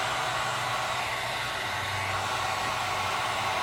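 Heat gun blowing a steady, loud hiss of hot air over amber tint film on a 2015-2017 Ford Focus headlight lens, with a constant low motor hum underneath and no pauses.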